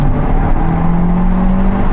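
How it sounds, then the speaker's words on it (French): An Abarth 695 Rivale's turbocharged engine revs loudly from inside the car, a steady, droning growl whose pitch rises slowly as it pulls through the revs. "Alors voyons comment est le moteur dans les tours."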